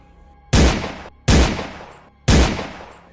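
Three sharp gunshots ring out, evenly spaced about a second apart, each loud crack trailing into a short echoing decay.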